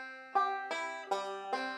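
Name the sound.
banjo playing a gospel ending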